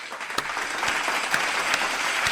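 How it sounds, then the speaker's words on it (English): A round of applause plays as a sound effect, a dense, steady patter of many hands clapping at a constant, fairly loud level throughout. "Oh, that one deserves a round of applause."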